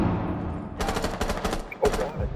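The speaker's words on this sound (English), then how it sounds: "He's throwing a flash in there, I think." Flashbang grenade detonating in the Rainbow Six Siege shooter, a sharp burst followed by a rapid string of loud crackling bangs, then a single closer pop, all over game noise with no talking.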